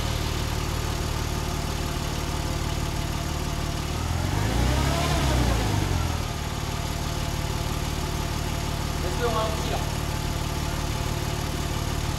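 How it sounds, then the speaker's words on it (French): A Porsche 997 Turbo engine idles with a steady, close, droning hum, swelling briefly in the middle before settling back to an even idle. "ça démarre au quart de tour"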